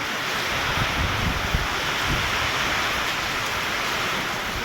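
Heavy rain pours down on an open combine harvester in a dense, steady roar of hissing drops, loud and continuous throughout, with wind buffeting.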